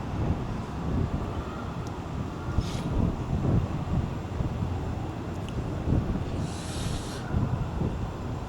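Strong wind buffets an outdoor microphone, a loud continuous low rumble with gusting surges throughout and no speech.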